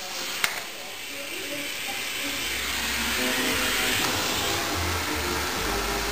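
A small handheld vacuum cleaner runs with a steady close whooshing hiss that swells slightly after a brief click at the start, while voices are heard faintly underneath.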